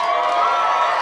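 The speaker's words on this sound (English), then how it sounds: "Some people wooing, some people clapping." A stand-up comedy crowd at a mall on a Wednesday night whoops and claps in one dense, loud burst that fills the whole moment, with no talking.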